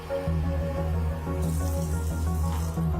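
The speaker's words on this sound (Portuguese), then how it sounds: "Um deles a gente vai encher com água fria da torneira" Cold water running from a kitchen tap into a drinking glass, a steady close splashing stream with a rising fill, alone without talk.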